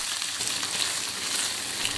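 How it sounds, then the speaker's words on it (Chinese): Fish bones and a fish head fry in hot oil in a wok, giving a loud, steady, close sizzle and crackle that continues without pause. "锅烧热，倒油，加入鱼骨和鱼头煎一下"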